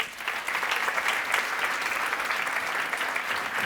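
Steady audience applause at a talk on financial freedom, dense continuous clapping throughout with no speech, fairly loud and evenly sustained.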